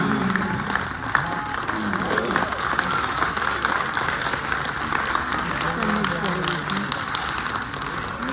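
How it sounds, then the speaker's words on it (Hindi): Audience applause at a Hindi poetry gathering (kavi sammelan) in Faridabad, a steady, dense wash of clapping from a crowd that carries through the whole stretch with a murmur of voices underneath. "तालियां कमजोर हैं, थोड़ा जोरदार तालियां होनी चाहिए"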